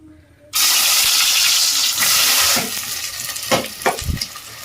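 Goat tripe dropped into hot oil in a pan bursts into a loud hiss after a quiet start, then settles into a lower, continuous frying sizzle broken by several stirring scrapes and knocks.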